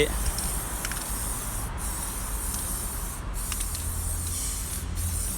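Protectant sprayed onto the console of a 2020 Isuzu as it is cleaned: a steady, loud, close hiss running throughout with slight pulsing.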